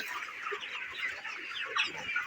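Broiler chickens on a farm keep up a continuous dense chatter of overlapping clucks and peeps from a large flock, steady and moderately loud throughout.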